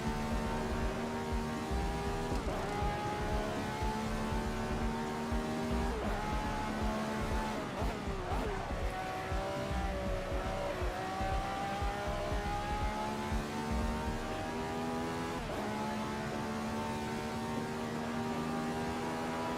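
The engine of an SR3 race car in a racing video game drones steadily the whole time. Its pitch climbs and drops through gear changes as it accelerates along a straight, with no speech.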